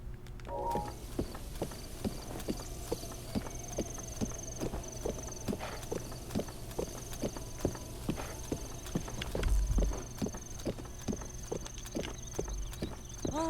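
A horse trots in Zelda: Breath of the Wild, its hooves clopping in an even, steady rhythm at moderate distance, a faint tonal game score underneath and no voices.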